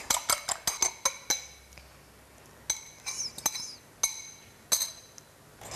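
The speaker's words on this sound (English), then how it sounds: "we're using 2 large eggs, and we just beat the eggs lightly" Two large eggs lightly beaten in a bowl with a fork or whisk: quick clinking taps against the dish in short bursts, close and crisp, with pauses between runs and no talking.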